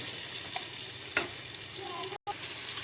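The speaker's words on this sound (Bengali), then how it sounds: "টমেটো কুচি দিয়ে আমি আবার এটাকে ভালো করে নাড়বো।" Fried onions with chopped tomato are stirred in a pan: a soft, low sizzle with a sharp scrape of the spoon near the middle and a brief cut in the sound near the end.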